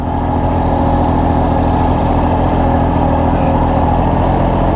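A tractor engine idles steadily nearby, a loud, even low rumble with no voices.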